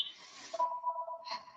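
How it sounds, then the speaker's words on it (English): A home landline telephone rings faintly in the background with a steady electronic tone lasting under a second, set among quiet room noise. "Can you hear that phone ringing?"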